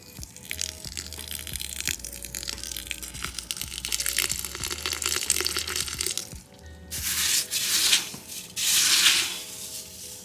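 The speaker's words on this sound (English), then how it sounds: "I just water my perlite so that it's all moist." Water poured over perlite in a container for houseplant care, a steady gritty hiss and trickle that swells into a louder rushing pour toward the end, close up with no talking.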